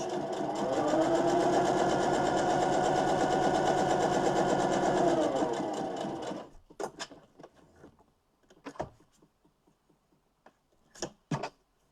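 A sewing machine stitches around the edges of a fabric mask in a fast, steady whir for about six seconds, followed by scattered clicks and soft handling noises as the fabric is turned.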